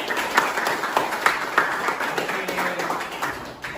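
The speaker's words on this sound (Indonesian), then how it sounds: "Kasih tepuk." Classroom applause for a student after her answer in an Indonesian school coaching session, a brief scattered round of clapping from a small group, steady and fairly close.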